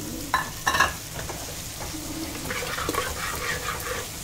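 Steady crackling sizzle of leafy greens frying in hot oil, with a few louder scraping stirs near the start, close by and without talk.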